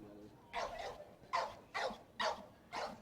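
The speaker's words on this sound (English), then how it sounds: "I hear at least one dog in front of the broadcast booth that is unhappy that rolls are canceled" A dog barks outdoors in front of a broadcast booth at a rained-out buggy race, giving five loud, evenly spaced barks close to the microphone over faint background noise.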